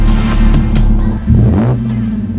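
2013 Audi S4 fitted with a CTS turbo intake, revved in quick close bursts, loud and alone, with a sharp blip and a throaty induction growl.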